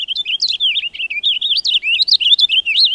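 Purple finch fledgling, fresh from the nest, giving a continuous run of high, warbling chirps and tweets, close and clear with no other sound.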